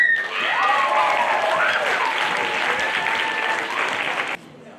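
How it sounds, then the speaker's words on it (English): Audience at a school performance in an international boarding school hall giving steady, dense applause for a sixth-grade group, sustained for about four seconds before cutting off abruptly. "So please give them a big round of applause"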